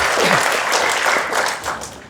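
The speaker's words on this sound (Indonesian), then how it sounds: "Tepuk tangan buat mereka semua yang sekarang." Applause fills a nursing graduation ceremony, a dense, steady wash of many hands clapping together at close range, holding loud throughout with a slight swell near the end.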